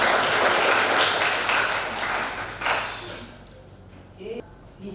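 Students in a classroom applaud with a dense burst of clapping that fills the first three seconds, then thins out and fades into scattered claps and room noise.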